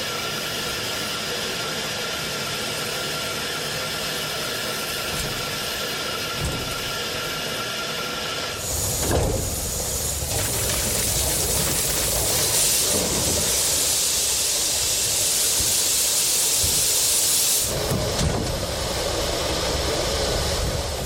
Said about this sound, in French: c'est dans le nuage de vapeur libéré par les purgeurs que la K8 s'arrache à la voie du dépôt